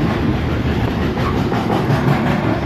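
Graffiti-covered Sydney commuter train rolling past at close range, a loud steady rumble of wheels and carriages with faint clickety-clack, no voices.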